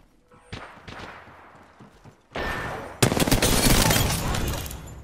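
Rapid bursts of automatic gunfire in the Apex Legends shooter, sparse shots at first, then a sudden loud sustained barrage of overlapping fire in the final seconds.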